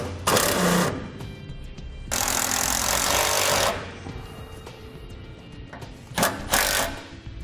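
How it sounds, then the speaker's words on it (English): A power driver runs self-tapping screws to mount a Firestone heavy-duty air compressor on a 2015 Ford truck, with loud high-pitched whirring bursts of about one to two seconds separated by quieter pauses. "now we'll use the self-tapping screws to run it in."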